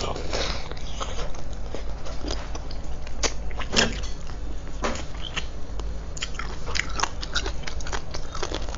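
Sweet and mildly spicy chicken feet are bitten and chewed close up, with sharp crunching bites and wet chewing repeating over steady background hiss.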